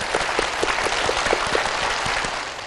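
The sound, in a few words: audience applause on a game show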